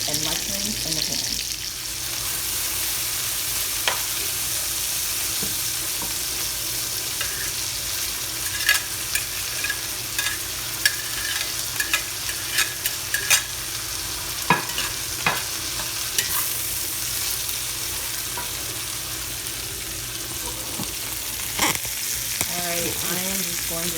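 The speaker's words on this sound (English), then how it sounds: "I am just going to saute these all down until they are brown and tender." Onions, garlic and mushrooms sauté in a pan with a steady hiss, close up, while a spoon scrapes and clinks against the pan now and then, and occasional indistinct voice sounds come and go over the sizzling.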